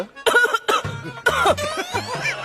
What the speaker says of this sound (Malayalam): നീ ചുമക്കുന്ന കേൾപ്പിക്കാനാണോ എന്നെ